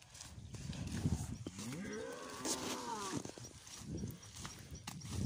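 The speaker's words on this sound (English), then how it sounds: "These are, I think they're steers. There's about 100 of them. All followed us down the farm road" A herd of about a hundred steers following along a farm road, with several drawn-out moos rising and falling over shuffling hooves, fairly close and fairly quiet outdoors.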